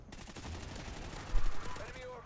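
Gunfire in Call of Duty: Ghosts on the Mutiny map: rapid automatic shots rattle steadily, with a louder burst near the middle, fairly faint overall and with voices over it.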